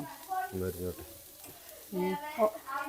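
Food fries in a pan until crisp, a soft sizzle and stirring under two short bursts of a humming, voice-like tone.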